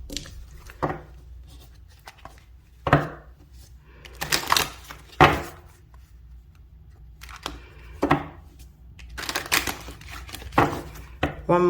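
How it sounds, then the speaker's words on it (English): Tarot cards are shuffled in repeated crisp, papery riffles and slaps, several bursts spaced irregularly and heard close up against near silence. "One more shuffle."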